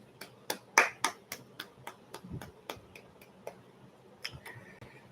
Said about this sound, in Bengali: প্রথমে একটা বড় হাততালি